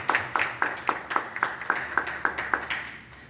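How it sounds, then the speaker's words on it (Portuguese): Church congregation clapping in a slow, regular rhythm, about a dozen crisp evenly spaced claps close by, then fading out at the end. "Convido você a aplaudir esta palavra que nós ouvimos."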